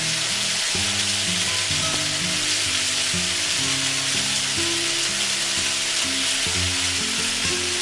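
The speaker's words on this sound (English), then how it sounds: "your cubes of steak, of the ribeye steak on one side like I'm doing" Cubes of ribeye steak searing in a hot pan for a stir-fry, giving a dense, continuous loud sizzle and spatter close up, steady throughout with no talking.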